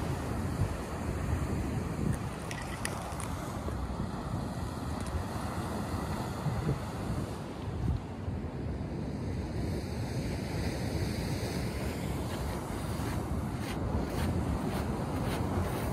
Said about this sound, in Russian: И вот такое море.